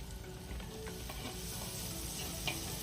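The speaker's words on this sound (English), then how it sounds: "We saute up our onions, our garlic, our red pepper, and then we add the oil from the anchovy can." Onions, garlic and red pepper sauté in oil in a pan for paella, giving a steady close sizzle and crackle with a few light stirring clicks throughout, no talking.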